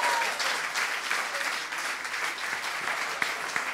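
A studio audience at a Swiss comedy talent competition claps steadily and densely for nearly four seconds after a newcomer's first stage appearance, with a few sharper claps standing out near the end.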